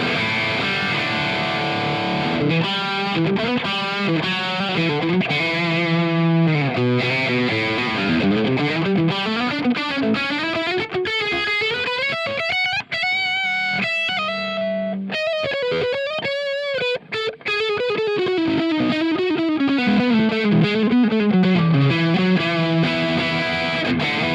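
Heavily distorted electric guitar through a modern high-gain amp tone in AmpliTube 5X with ToneX, with a thick, saturated tone, playing sliding riffs and sustained notes continuously for over twenty seconds.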